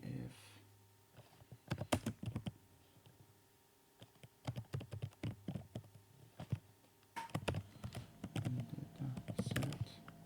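Computer keyboard typing in bursts of quick, close keystrokes, with pauses between runs of clicks.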